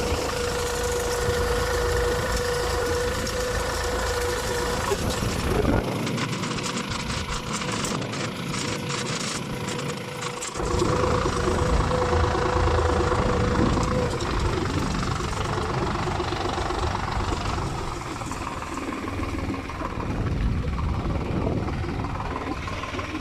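A New Holland T580B tractor engine drones steadily during crop harvesting, rumbling loud and close, with a brief dip in the low rumble partway through before it resumes.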